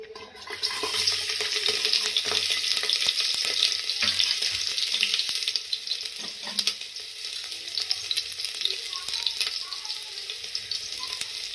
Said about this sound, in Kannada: ಆಯಿಲ್ ಬಿಸಿ ಆಗ್ತಿದ್ದಂಗೆ ಸಣ್ಣ ಈರುಳ್ಳಿ